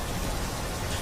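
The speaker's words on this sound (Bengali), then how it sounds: "সকাল থেকে টানা বৃষ্টি, খাল বিল পুকুর সব জায়গায় থই থই জল।" Steady, continuous rain falls close by on a monsoon evening, a dense unbroken hiss with no gaps or voices.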